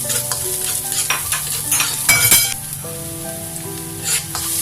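Garlic and onion sautéing in a pan for a chicken and broccoli stir-fry, a constant close sizzle broken by scraping stir strokes and a few utensil clinks, with no talking.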